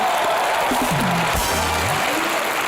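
A studio comedy show audience bursts into loud, sustained applause, dense clapping filling the room while a voice speaks briefly over it.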